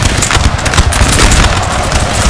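A volley of musket fire from Napoleonic infantry in the Napoleon Total War video game crackles loud and dense as a continuous rattling roar of overlapping shots.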